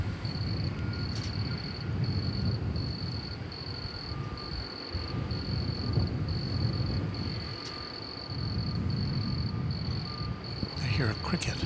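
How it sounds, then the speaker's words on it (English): A cricket chirps steadily at night near an airport, a rapid pulsing trill that repeats in even bursts over a low rumbling background, with a voice briefly audible. "I hear a cricket."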